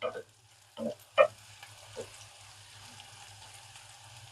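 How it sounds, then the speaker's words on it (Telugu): Bitter gourd pieces frying in a pan for a gravy curry give a few brief stirring scrapes early on, then settle into a quiet, low sizzle and hum. "కాకరకాయ ముక్కలు వేగాలి ఉడకాలి అన్నాను వేగాయి ఉడికాయి చూడండి"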